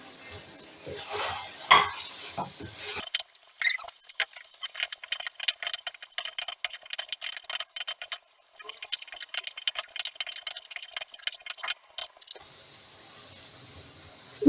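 Chopped bell peppers stirred into minced meat in a pan, with a metal spoon scraping and clinking against the pan in quick irregular strokes and light sizzling, close up, with no talking.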